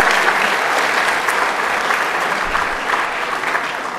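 An audience at a school Veterans Day assembly claps for veterans, a dense sustained round of applause filling the room, loud at first and easing slightly toward the end, with no speech over it.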